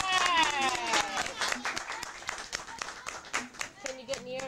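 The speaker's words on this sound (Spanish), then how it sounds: "Un aplauso a la cantante." Scattered hand clapping for a singer at a grandma's birthday party on New Year's Eve, sparse uneven claps close by with voices talking and calling out over them.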